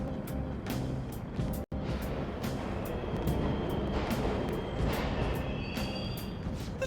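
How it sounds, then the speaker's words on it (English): Subway trains run through a station in the video game Persona 5 Royal, giving a continuous loud rumble with rattling and squeaks throughout. "The trains are totally running!"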